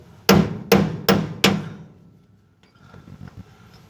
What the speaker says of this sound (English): And again, taking the lock pin out